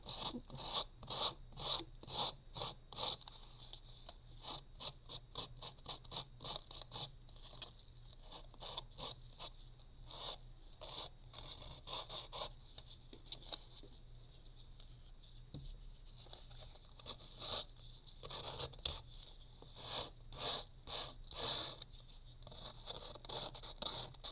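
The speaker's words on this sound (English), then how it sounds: "Instead of using scissors, I'm going to be using just a rough emery board" Rough, rhythmic scratching and rasping strokes of an emery board filing paper napkin edges, close by, coming in quick bursts with brief pauses.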